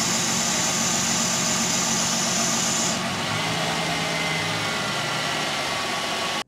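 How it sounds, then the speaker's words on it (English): A car engine idles rough, steady and uneven, a low rumbling hum with slight wavering, close by, alone with no voices, cutting off abruptly at the end. "and the engine is idling rough"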